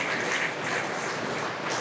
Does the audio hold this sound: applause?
yes